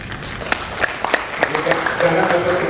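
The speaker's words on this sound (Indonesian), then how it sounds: "Itu mungkin buat kawan-kawan pertanian beri tepuk tangan" Applause from an audience of journalists at a university (Unila) agriculture event, a burst of scattered clapping rising into a fuller round, with speech mixed in.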